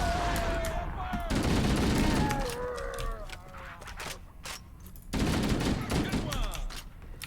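Automatic weapon fire in the shooter game Halo CE, with repeated rapid bursts of shots and sharp reports alongside electronic game tones, close and loud, with the volume rising and falling between bursts.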